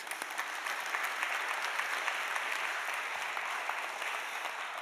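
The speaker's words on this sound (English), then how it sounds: "Round of applause for David" A steady wash of clapping from a book festival audience, dense and even throughout, with no voices standing out.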